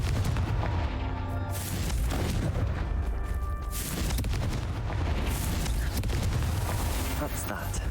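A Confringo fire-blast spell in Hogwarts Legacy goes off in a dense, continuous roar of booming explosions and crackling impacts that fills the whole stretch at high volume.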